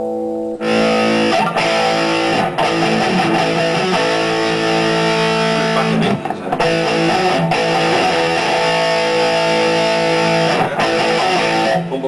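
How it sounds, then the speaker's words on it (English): A Stratocaster electric guitar played with light overdrive, giving a loud, continuous, gritty chord-and-note passage with brief dips between phrases. "bit of overdrive with the normal strat sound"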